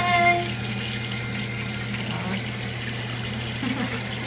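Water runs steadily from a tap while a dog is bathed, a continuous close rushing flow with a faint hum underneath and no clear speech.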